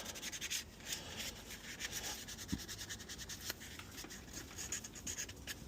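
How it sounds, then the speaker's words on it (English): Light hand sanding of a carved wooden spoon after wetting it to raise the grain, soft rhythmic rubbing strokes close up and fairly quiet, with no talk. "give it a light sand and just get all the fluffy stuff that rose up after we wet it"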